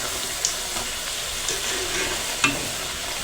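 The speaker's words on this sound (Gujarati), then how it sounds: "આપણે પૂરીને પલટાવી લઈશું." Puri frying in a pan of oil, giving a steady close hiss and sizzle with a few soft clicks as the dough is turned, loud and continuous with no talk.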